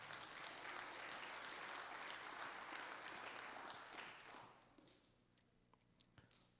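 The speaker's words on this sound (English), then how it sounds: "Round of applause for Matthew Cook." Audience applause at a fathers' program graduation ceremony, a full burst of clapping that fades after a few seconds into scattered individual claps and small noises.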